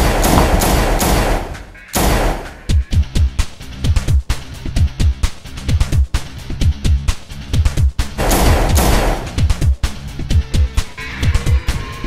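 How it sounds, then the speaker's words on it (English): Gunfire in a crime drama: dense volleys of loud shots and heavy thuds crackling in rapid bursts, pausing briefly before more repeated shots close by, with no talking. "Shots."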